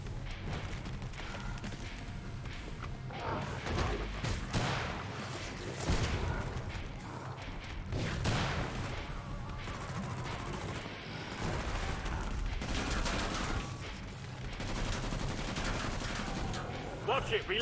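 Gunfire in Killing Floor 2, dense bursts of shots and mechanical weapon clatter running continuously, mixed with game noise and intermittent voice lines.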